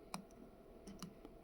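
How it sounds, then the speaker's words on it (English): A wristwatch crown is pulled out to its second position with a few faint, tiny mechanical clicks. Quiet, close and sparse, with no talk. "pull your crown all the way. So that's a second click"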